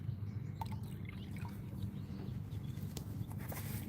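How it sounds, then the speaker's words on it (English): Water tipped out of a pan into a sink: a soft patter of drips and small liquid splashes over a steady low hum, fairly quiet and close, with no talking. "Let's get rid of some of this water here."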